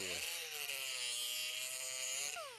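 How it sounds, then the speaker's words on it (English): Steel body hammer edge ground against a Norton Blaze 50 grit abrasive, a loud, steady high-pitched grinding whine that holds throughout, with the motor pitch rising at the start and falling at the end. "we'll go to this 50 grit here. This is the Norton Blaze 50 grit. And I'm going to kill the edge a little bit."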